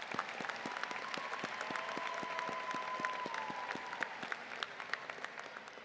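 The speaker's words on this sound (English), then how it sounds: "If we could give them a round of applause." A high school graduation crowd gives the Claiborne High School faculty a sustained round of applause, with dense clapping and a steady rhythmic beat of individual hands. A faint tone rises and falls through the middle of it.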